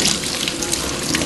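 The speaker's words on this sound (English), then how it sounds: "Always remember to wash your hands first." Running sink tap water pours steadily as hands are washed before cooking basil pesto gnocchi, a continuous close hiss with no pauses.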